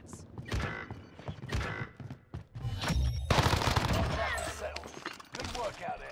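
Gunfire in the Warzone shooter with a Kar98k rifle and MP5 submachine gun, a series of close, sharp shots and bursts mixed with mechanical clicks and creaks, while someone speaks over the firing.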